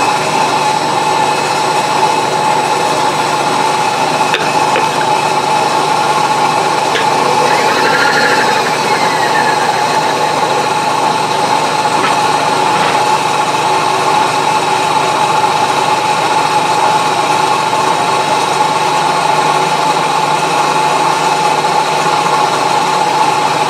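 Wood chipper running steadily at just over 100 RPM, a continuous mechanical hum and whine with a sustained tonal drone, loud and unbroken with no talk.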